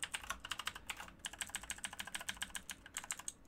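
Quick, rhythmic clacking of keys on a computer keyboard, steady and close with small pauses between bursts and no voices, heard while macro inputs for a fighting game are typed in Unreal Engine.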